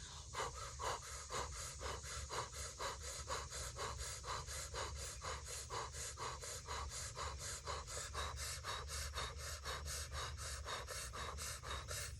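Rapid, deep rhythmic breaths during a Kundalini yoga class, a steady fast in-out pumping of breath that continues evenly throughout, close and moderately loud with no talking.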